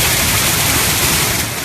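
Pounding rain with floodwater from a fast-moving storm system in eastern and central Arkansas, a loud, dense, continuous roar with no pauses.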